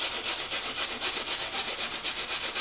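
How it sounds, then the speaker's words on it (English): A brush scrubs the metal zipper teeth on a vintage Louis Vuitton canvas bag in quick, even back-and-forth strokes, a close rhythmic scratching rub with no talking. "So I find that using this brush is like the easiest method."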